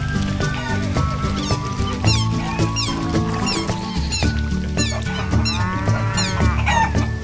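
A rooster crows while chickens cluck continuously in a loud, close farmyard chorus, with other fowl calling alongside.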